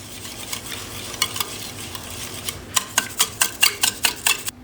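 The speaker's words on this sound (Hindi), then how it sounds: "अब चीनी को आपने इसमें हल करना है, बिल्कुल मिक्स करना है।" A spoon stirs sugar into besan halwa in a pan, a soft scraping and shuffling that turns into a steady run of louder, rhythmic strokes over a faint background hiss, with no talking.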